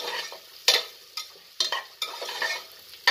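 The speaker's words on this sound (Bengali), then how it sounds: "এটাকে একটু 2 মিনিট আমি ভেজে নেব। আমি ধিমি আঁচে ভাজছি" Paneer butter pulao frying on a low flame in a pan, a steady sizzle broken by several sharp scraping stirs of a spatula at irregular intervals, close and fairly loud with no talking.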